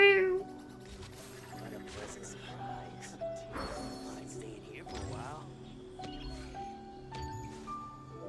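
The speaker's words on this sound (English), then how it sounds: "What you doing here, cat?" A cat meows in Genshin Impact, heard as a few soft mews amid game music and effects while a person talks over it.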